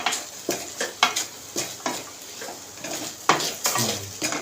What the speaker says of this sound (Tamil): மூணையுமே சேர்த்து ஒரு கிண்டுக்கலாம்.